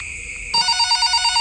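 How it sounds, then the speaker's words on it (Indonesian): A telephone in a horror video game set in a hospital starts ringing after a quiet moment, a loud, close, trilling electronic ring that keeps going in rapid pulses. "Oke, dan telepon lagi."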